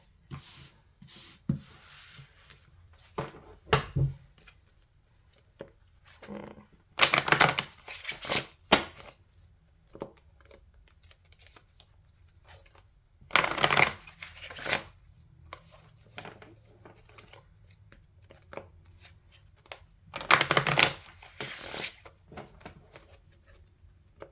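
Oracle and tarot cards being shuffled by hand, heard as several separate bursts of riffling and rubbing spread across a quiet room, with soft card handling between bursts and no talking.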